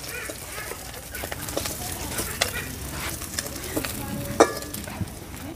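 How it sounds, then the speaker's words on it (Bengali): Prawns frying in a pan as they are turned over, with a constant crackling sizzle and scattered scrapes and taps, one sharper knock near the end. "এবারে চিংড়ি মাছগুলো আমি উল্টিয়ে দেবো। চিংড়ি মাছগুলো ভেজে নিয়েছি"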